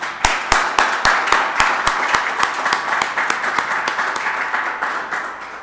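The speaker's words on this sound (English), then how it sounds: "Please give them a round of applause." A press conference audience applauds volunteers, sparse separate claps at first that quickly swell into a dense, steady round of applause from a modest crowd in a room.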